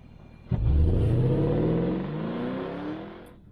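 A 4.5-litre V8 car engine revs up sharply, its note climbing steadily in pitch as it pulls hard for about three seconds before easing off, loud and close with no talk.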